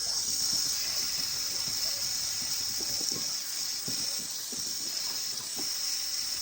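A steam cleaning machine hisses steadily while cleaning a gas stove, a constant close airy jet with faint clicks and knocks beneath it and no talk.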